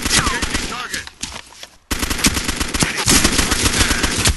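Automatic gunfire in the military shooter ARMA 2, loud dense bursts of rapid shots that break off briefly midway, then resume as a sustained close volley.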